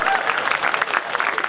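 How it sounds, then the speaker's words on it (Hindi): Loud, continuous clapping from an audience at a poetry gathering (kavi sammelan), a dense crowd applause sustained throughout without pauses. "ताली बजाओ"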